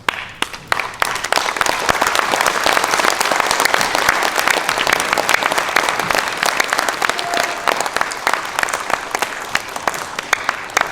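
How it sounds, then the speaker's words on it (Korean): A standing audience gives loud, dense applause at a book launch for a former Namhae county governor, with many hands clapping continuously and close for about eleven seconds, a few voices faintly mixed in. "여러분 모두 한번 일어서시고 한번 큰 박수 한번 보내주시기 바랍니다."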